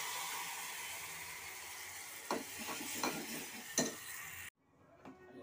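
Papads fry in hot oil in a home kitchen with a loud, crackling sizzle and a few sharp stirring clinks, then the sound cuts off abruptly into a much quieter background.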